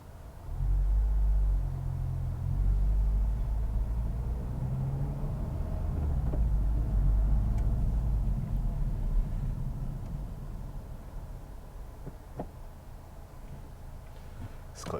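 A Honda Civic Type R being driven, a steady low engine rumble and road drone from inside the cabin that holds loud and even throughout, easing slightly toward the end, with no talking.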